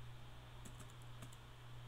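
Several soft, quick keystrokes on a computer keyboard entering terminal commands on an Ubuntu 12.04 system, a short cluster of taps over a steady low electrical hum, faint and close.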